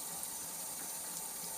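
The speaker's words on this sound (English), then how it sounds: "We're putting water in" Water poured into an open dishwasher tub during a cleaning fix, a steady soft splashing and trickling that holds constant throughout, fairly faint, with no voices.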